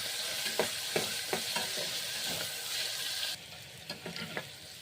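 Chopped onions with a pinch of salt frying in a pan for upit, a steady close sizzle with a few soft scrapes of a spatula stirring. The hiss drops slightly near the end.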